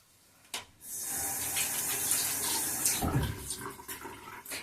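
Running water rinses vegan facial scrub off the face, a steady broadband rush of tap water with brief splashes, close and fairly loud, easing toward the end.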